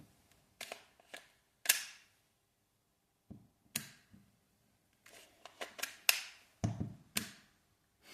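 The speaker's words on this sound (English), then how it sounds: "What is that clicking sound?" Clicking from the hammer and valve knocker of a WE Glock 17 Gen 3 airsoft pistol: a dozen faint, irregular mechanical clicks and taps with short pauses between them, close by and quiet.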